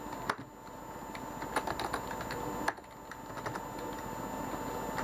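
Typing on a computer keyboard, entering text into an intro-making tool: a steady run of close key clicks with a few louder taps scattered through, over a faint constant background hum.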